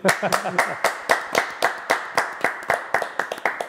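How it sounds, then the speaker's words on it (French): A television studio audience clapping in time on a French show, a rhythmic series of sharp, evenly spaced claps, close and fairly loud, with a few voices mixed in. "allez, on l'applaudit"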